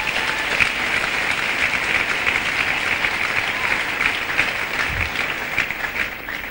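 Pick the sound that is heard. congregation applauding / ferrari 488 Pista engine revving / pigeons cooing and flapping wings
congregation applauding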